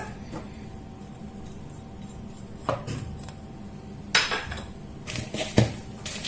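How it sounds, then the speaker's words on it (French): A utensil stirring almonds, sesame, pumpkin and sunflower seeds with spices in a bowl for savory granola. Intermittent clinks and scrapes on the bowl grow more frequent toward the end, close by, with no talking. "On mélange un petit peu."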